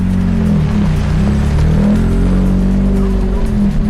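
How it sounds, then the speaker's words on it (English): Rally car 428 at a rally stage in Prescott, engine droning loudly and steadily close by, with a deep rising and falling note throughout and no clear pauses. "Philip Mickelborough and Nikita Lotman, car 428. You hear them"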